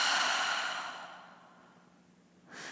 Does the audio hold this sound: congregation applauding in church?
no